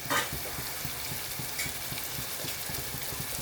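Chilli and turmeric powder fry with onion and garlic in a pan for a prawn dish, giving a continuous hiss broken by rhythmic, evenly spaced stirring strokes.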